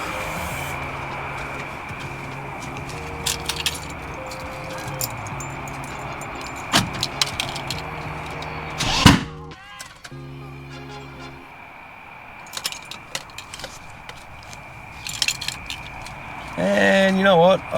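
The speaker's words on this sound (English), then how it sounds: "That was a really big backfire." A Holden VL Turbo engine cranks and runs rough during a start attempt, then one loud, sharp backfire bang cracks out midway, followed by uneven running noise and scattered clatter, with faint voices in the background.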